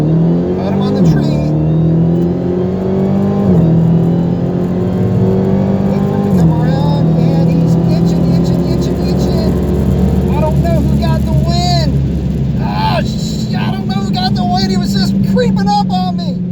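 A Dodge Hellcat accelerating hard down a quarter-mile drag strip, its engine roaring loud and close from inside the car, climbing through several gear shifts while excited voices talk over it.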